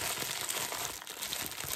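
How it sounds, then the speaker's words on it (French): Diamond painting canvas being flattened by hand, giving a steady close crinkling and rustling of plastic-coated canvas that runs throughout, with no talking. "Je vais voir si je peux bien aplatir les plis là."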